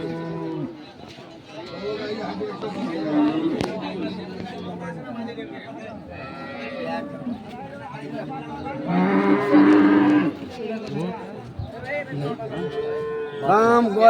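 Dairy cows with calves at a rural cattle market in Ambari, Dinajpur, moo several times, loud and near, over a steady babble of buyers and sellers talking.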